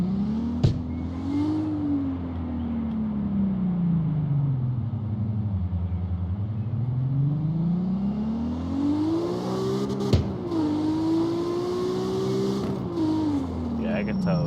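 A drift car in CarX Street, running a swapped fuel setup, revs loudly in rising and falling sweeps, climbing high, dipping, then surging again through repeated throttle pulls with a sharp click or two over a steady engine drone.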